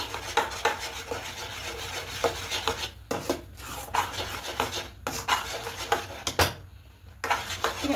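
A spoon rubs and scrapes steadily against a pot as grated khoa kheer is stirred into thickening milk, with a repeated close rasping rhythm and a few short pauses.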